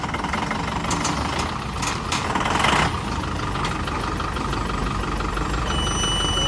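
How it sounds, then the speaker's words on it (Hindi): A brand-new Tata vehicle's diesel engine rumbles steadily while being driven out, a continuous heavy idle-like drone with a brief swell in revving partway through, close and alone with no talk. "ये विमल भाई बाहर निकाल रहे हैं हमारी गाड़ी"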